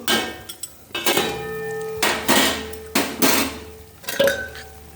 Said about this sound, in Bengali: এই দেখো ঢাকাটা এবার খুলবো।